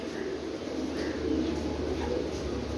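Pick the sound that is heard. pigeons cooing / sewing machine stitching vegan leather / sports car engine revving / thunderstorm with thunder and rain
pigeons cooing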